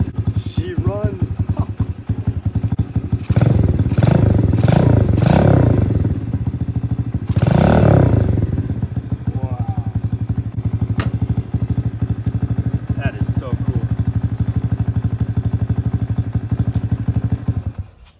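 An XPRO 125cc dirt bike engine runs steadily at idle throughout, a low continuous drone with a few revving swells near the start, heard close and fairly loud with brief people talking over it.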